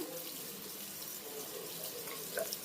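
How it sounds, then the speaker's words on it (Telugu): Onions sizzle with turmeric in a pan, giving a steady, soft, broadband hiss close by with a few faint crackles and no voices. "ఇవైతే ఆనియన్ ఫ్రై అవుతున్నాయి కదండి దాంట్లో కొంచెం పసుపు యాడ్ చేస్తున్నాను"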